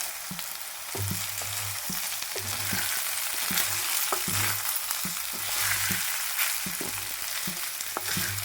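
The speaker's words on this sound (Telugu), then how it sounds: "ఇప్పుడైతే ఇందులోకి ముందుగా ఉడికించుకున్న రైస్ అయితే వేసుకోవాలి. వేసుకుని ఒకసారి అయితే కలుపుకోవాలి." Cooked rice and soya chunks stir-fried in a pan, a steady broadband sizzle under repeated spatula scrapes and knocks at an irregular rhythm, close and fairly loud, with no talking.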